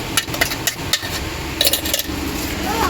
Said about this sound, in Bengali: এটাকে আমি দিয়ে এবারে ভালো করে কষবো যতক্ষণ না তেল ছাড়াতে থাকে